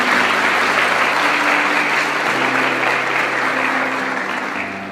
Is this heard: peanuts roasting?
no